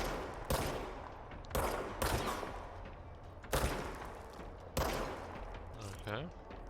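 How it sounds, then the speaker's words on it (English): Gunfire in the video game Control: five or six loud, sharp bursts of shots in rapid volleys, spaced about a second apart, with game sounds and a voice in between. "Shit, it's shooting."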